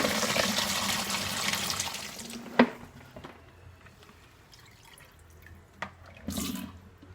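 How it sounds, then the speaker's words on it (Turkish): Water poured off cracked olives, a steady splashing pour that fades out, with a couple of sharp knocks and a brief gurgle near the end. "Zeytinimizin suyunu döküyorum."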